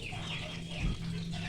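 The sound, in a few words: free-range village chickens clucking on a farm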